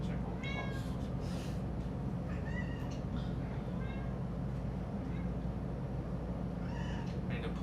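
A domestic cat meows several times in short, rising calls spread across the clip, close by over a steady low background hum, with no one speaking.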